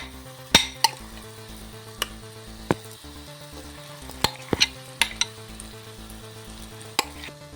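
Potatoes are stirred into sizzling samosa filling frying in a pan, a steady crackle of hot oil punctuated by sharp clinks of a spoon against the metal pan at irregular intervals, close and alone.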